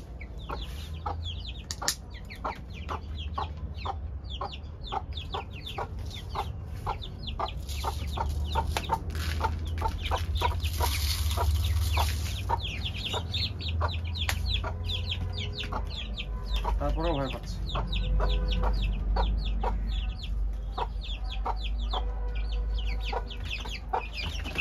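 Colombian Light Brahma chickens, mostly roosters with seven or eight chicks, cluck and call continuously close by in a busy, overlapping chatter, with faint voices in the background.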